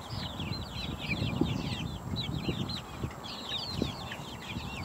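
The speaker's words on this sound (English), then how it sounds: "She's a good hen." A Production Red hen clucks in a farmyard, short bursts of soft, fairly close clucking repeating in uneven clusters over steady outdoor background noise.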